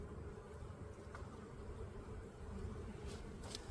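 Honeybees swarm around an open hive during an early spring check, a dense continuous buzzing drone close to the listener with individual bees zipping past.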